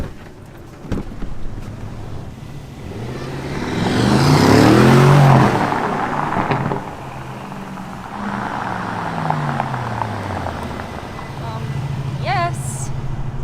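An Aston Martin SUV accelerating on a road drive, engine note rising and swelling with wind and road roar from inside the cabin, loud and continuous, easing off then building again.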